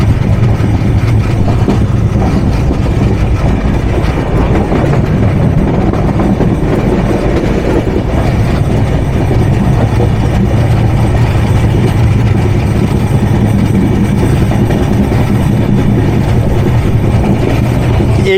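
A Bangladesh Railway express, the Tungipara Express from Rajshahi, pulls into Ishwardi with a loud, steady, close rumble of wheels and carriages that fills the whole stretch without letting up.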